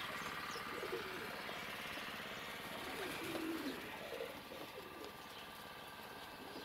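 Pigeons coo softly in low burbling calls amid a steady background hum, with faint chirps scattered through.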